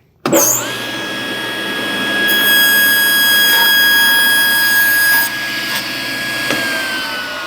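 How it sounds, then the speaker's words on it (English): A power saw rips a wooden board from 8 inches down to 7 1/4 inches wide, a steady loud whining drone with a high tone that holds for several seconds before the blade spins down. "Now I'm going to cut the width from 8 inches down to 7 1/4."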